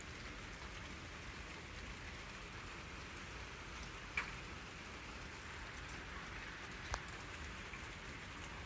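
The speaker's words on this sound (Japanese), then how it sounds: "雨が強くなってきた。" Steady rain falls on an outdoor surface in Japan in late summer, a dense even patter with two brief louder drops partway through, no voices.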